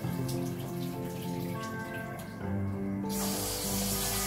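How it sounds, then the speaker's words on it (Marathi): Tap water runs steadily as pasta is rinsed under it, a continuous close hiss and splash with a tonal hum and a change in the flow near the end. "मी पास्ता हा धुवूनच मग घेते"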